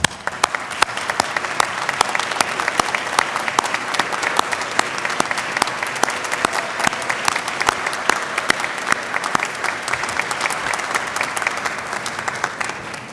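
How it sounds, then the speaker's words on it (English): Sustained applause from a seated graduation crowd at a Newberry College winter commencement, honoring the graduates' relatives; dense steady clapping at even loudness throughout, with no voices over it. "Will the relatives of those that are graduating today please stand for a well-deserved round of applause."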